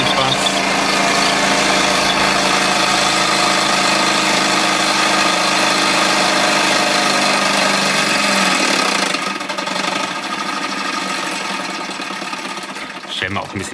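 A 1980s Wilesco D20 toy steam engine runs fast and steady with a buzzing, rhythmic chatter, then slows and quiets partway through.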